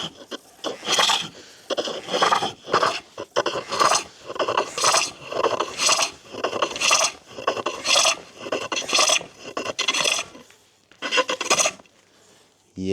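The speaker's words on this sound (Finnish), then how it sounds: "Tässä kuulee ihan tosta äänestä, että miten karkeasti tai hienosti se taltta nappaa." A chisel cuts a wooden bowl on a wood lathe, giving loud rhythmic rasping scrapes in repeated bursts of about a second each, close up and alone.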